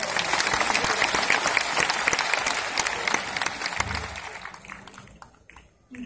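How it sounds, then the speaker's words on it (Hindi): An audience at a college kavi sammelan breaks into sustained, dense applause that stays loud for several seconds, then thins and fades toward the end as a few claps linger. "एक बार ताली बजा दीजिए।"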